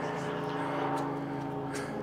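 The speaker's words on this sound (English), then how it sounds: "You hear me above the helicopter?" A steady low mechanical drone with a pulsing rotor-like hum from a helicopter flying overhead fills the background while a person talks over it.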